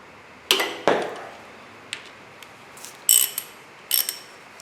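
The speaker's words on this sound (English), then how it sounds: "just going to remove this sort of front assembly bit here, which means once again, taking off this damn idler pulley" Ratchet clicking while removing the idler pulley from a Toyota MR2 engine: several short bursts of rapid ratcheting clicks spread across the span, close and fairly loud, with no talking.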